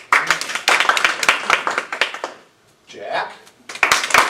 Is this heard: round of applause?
yes